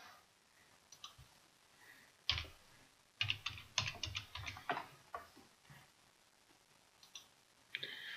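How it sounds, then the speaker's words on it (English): Someone types on a computer keyboard, faint, close-up key clicks in short irregular bursts with brief pauses between them. "Typing / Baker into the search field"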